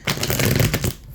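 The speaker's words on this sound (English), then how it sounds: "One more shuffle." A deck of tarot cards riffled and shuffled close up, one quick dense burst of papery flutter lasting about a second.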